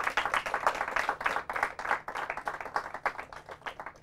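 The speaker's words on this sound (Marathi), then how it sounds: "जोरदार टाळ्या म्हणतो." An audience at a staged team competition event breaks into steady, dense applause, loud and close, many hands clapping continuously for several seconds with no voices over it.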